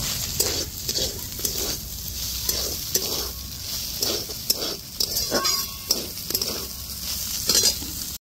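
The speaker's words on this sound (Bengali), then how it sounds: "খুব ভালো করে নাড়া দিয়ে নিব।" A bread pakora mixture with chopped chilli stirred in a pan, with repeated close scraping and clinking of a spoon against metal in a steady rhythm.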